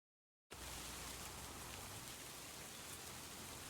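A rain shower in Farming Simulator 25 begins abruptly after a moment of silence and settles into a steady, even hiss of falling rain that continues unbroken, with no voices.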